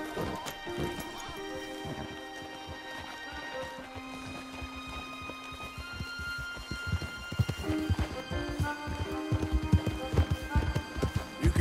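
Several horses clip-clop and gallop across ground in a video game, hoofbeats quick and irregular at first, then louder and more insistent toward the end, with a layered musical drone beneath and no talking.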